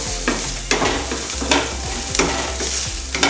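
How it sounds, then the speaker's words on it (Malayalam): Carrot and capsicum sautéing in a pan with a loud, close sizzle, broken by several sharp scrapes of a spoon against the metal as the vegetables are stirred at irregular intervals. "അത്യാവശ്യം കുറച്ച് വേവുന്നവരെ നമുക്ക് നന്നായിട്ട് വഴറ്റി കൊടുക്കാം."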